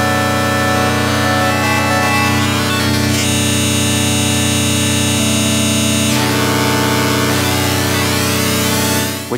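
Ableton Wavetable synthesizer oscillator being modulated, a dense sustained buzzy tone whose timbre shifts abruptly in stages, loud and continuous with no voice.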